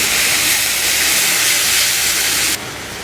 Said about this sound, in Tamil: தக்காளி நல்லா மசிஞ்சு வர வரைக்கும் நம்ம இதை வதக்கிக்கலாம்